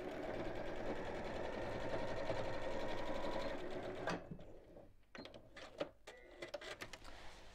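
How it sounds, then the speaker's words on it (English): A sewing machine runs steadily while stitching a seam across a messenger bag, a close, even whirring for about four seconds, then stops, leaving scattered handling clicks and taps. "and then sew straight across"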